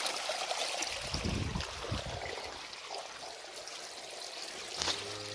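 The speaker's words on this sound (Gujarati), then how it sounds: "જો આવું આવે પાણી." Irrigation water runs from a pipe into a furrow of a maize field, a steady close-up gush and trickle that holds evenly throughout with no talking.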